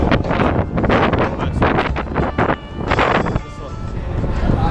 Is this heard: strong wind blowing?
yes